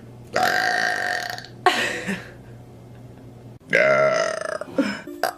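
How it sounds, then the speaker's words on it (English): A woman burps on the spot several times, with long, loud, close, croaking belches separated by short pauses and no talking in between. "Can you burp on the spot? I can."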